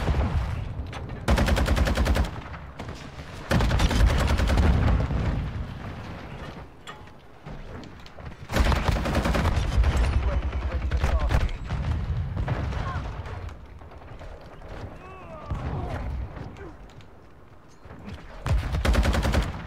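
Lachmann 762 rifle firing in a shooter game on a small, crowded map, repeated loud bursts of gunfire broken by short pauses, with other game effects and brief talk between.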